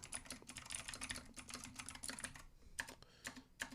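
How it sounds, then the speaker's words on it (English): Rapid typing on a computer keyboard, a quick irregular patter of clicks close up, briefly pausing before a few final keystrokes, with no talking. "Y'all like my typing speed?"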